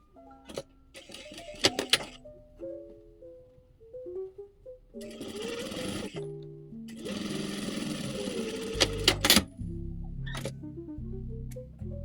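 A sewing machine stitches layered lace fabric for a scrunchie, running in short bursts of rapid mechanical chatter separated by pauses, with soft background music throughout.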